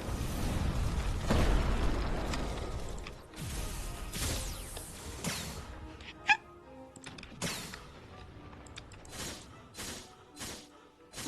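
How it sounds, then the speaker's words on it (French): A dragon explodes in the video game Blox Fruits, sending out a sequence of loud game bursts, pops and creaking mechanical effects, with sharp hits spaced unevenly over about eleven seconds. "mon dragon explose."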